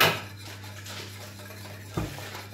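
A utensil stirs semolina into boiling milk in a pot for vegan semolina pudding, faint scraping and clinks over a low steady hum, with one sharper knock near the end.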